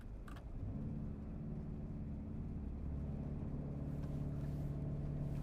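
Mercedes-AMG C63 with a four-cylinder engine giving a steady, loud droning run with low harmonic tones that rise gently, close and continuous, with no voices.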